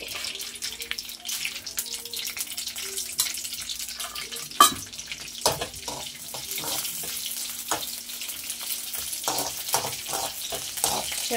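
Coriander seeds and dried red chillies dry-roast in a pan, a continuous dry rustling hiss broken by repeated light scraping and ticking stirs, close and fairly quiet, with no one speaking.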